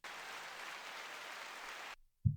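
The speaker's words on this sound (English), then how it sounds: "That's a double cheer from the studio audience there for the victory" A studio audience cheers with a sustained, even roar of applause and noise that breaks off abruptly, followed by a brief low thump.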